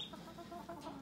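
A hen clucks softly in a short burst of low, throaty notes, fairly quiet and close.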